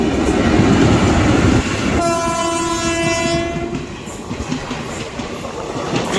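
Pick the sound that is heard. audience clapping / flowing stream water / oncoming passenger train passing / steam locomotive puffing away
oncoming passenger train passing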